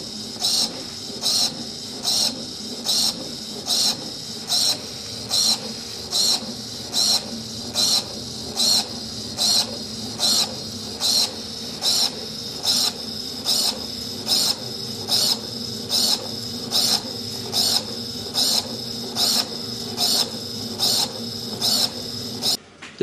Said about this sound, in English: Here you'll see the drawing arm in action